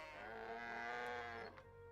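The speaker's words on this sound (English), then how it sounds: "my very excited cows" Cattle lowing in the farming game My Time at Portia, a long sustained moo holding steady for most of the span before tapering off, loud and alone with no speech.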